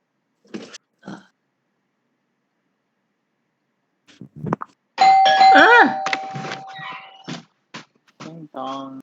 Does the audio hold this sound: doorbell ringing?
yes